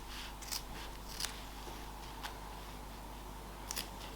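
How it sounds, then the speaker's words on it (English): Scissors snip into the corners of vintage Laura Ashley floral-print fabric, making a few faint, crisp cuts spaced irregularly against a steady background hum. "cut into the corners but don't go through the stitches"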